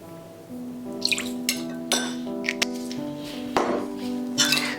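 Naturally fermented soy sauce poured into a miso and peanut sauce for noodles: a few soft drips and splashes with light clinks of a spoon against a bowl, close up, over a quiet background hum.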